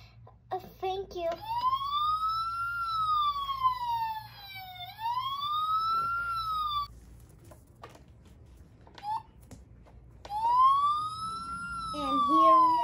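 Wailing ambulance siren rising and falling in long sweeps, fairly close and cutting in and out, with someone speaking intermittently and faint background hum.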